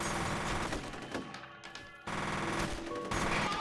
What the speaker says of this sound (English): the machine gun does help you with the range